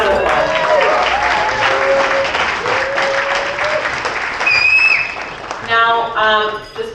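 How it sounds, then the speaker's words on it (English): Guests at a wedding reception applaud together in a loud, dense burst of clapping, with voices talking and cheering over it and a few whoops toward the end. "Another round of applause."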